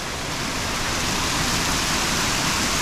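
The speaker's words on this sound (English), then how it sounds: "I can hear the water." Steady, loud rushing water from Tueeulala Falls in Yosemite fills the whole clip, a dense broadband roar like a nearby waterfall with no voices.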